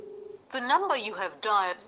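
An outgoing phone call rings without being answered: a short steady tone, then a louder melodic ringback tune with a voice-like quality that plays on in bursts.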